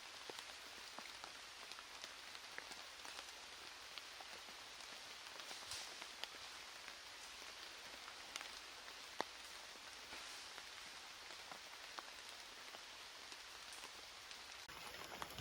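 Steady rain patters over forest leaves and ground, a dense continuous hiss with scattered louder drops, fairly quiet and unbroken throughout.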